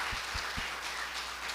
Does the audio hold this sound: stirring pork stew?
no